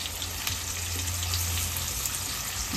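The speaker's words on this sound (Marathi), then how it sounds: "आपलं तेल तापलंय तर आपण कांदा घालूया." Chopped onion hits hot oil in a pan, giving a steady, close, even sizzling hiss that holds for the whole stretch without pause.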